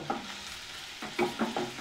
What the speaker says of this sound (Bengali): এবার আমি গ্যাসের ফ্লেমটা হাই করে দেবো এবং ভালোভাবে চিকেনগুলোকে মশলার সঙ্গে ভাজবো